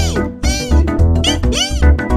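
A voice imitates a toucan call with repeated high, squealing "ee" cries in a bouncy rhythm, loud and close, sounding more like a meowing cat than a bird.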